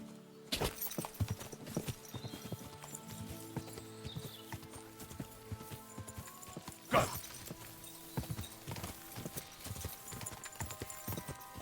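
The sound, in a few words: horse hooves clip-clopping in video game Kingdom Come: Deliverance 2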